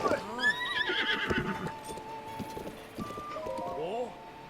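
A horse neighs and whinnies repeatedly in Zelda: Breath of the Wild, with game music and hoofbeats in the background and a person talking over parts of it.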